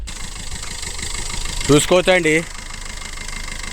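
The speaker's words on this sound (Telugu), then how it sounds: "ఫస్ట్ అయితే ఇంజన్ సౌండ్తో సహా మీకు క్లియర్గా చెప్తాను నేను, చూడండి" A 2017 Maruti Swift VDI diesel car idles with a low, steady, slightly knocking engine rumble close by, and someone speaks briefly over it.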